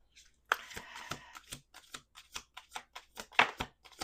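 Tarot cards being shuffled nearby, a riffling burst followed by a string of quick, soft slaps and flicks at an uneven rhythm.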